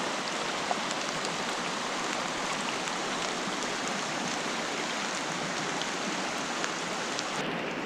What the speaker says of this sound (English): Day one, just rain all day.